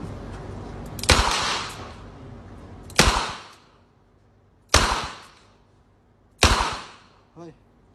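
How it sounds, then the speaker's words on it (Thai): Four sharp, loud gunshots ring out at a target, spaced roughly two seconds apart, as test rounds from ammunition that earlier failed to fire; a small faint thump follows the last shot. "สี่นัดที่เหลือนะครับ เมื่อกี้ยิงไม่ออก เดี๋ยวเราจะลองยิงเป้าธรรมดา"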